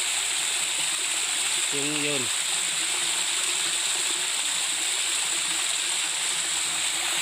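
Water gushes out from the bottom outlet of a dam into a river as a loud, steady rushing roar, while a voice briefly speaks over it.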